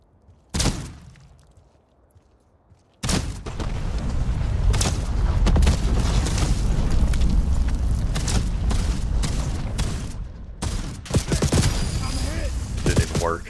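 Rapid video game gunfire in a solo endgame match, a single sharp shot followed by a long sustained barrage of loud overlapping shots and blasts that ends abruptly, with scattered shots after.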